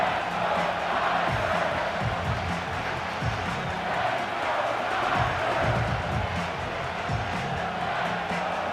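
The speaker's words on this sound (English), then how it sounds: "We can feel this crowd all the way up here in the press box, Mike." Stadium crowd noise in a simulated American football game, Seattle Seahawks versus San Francisco, a continuous roaring, rumbling cheer at a steady level throughout.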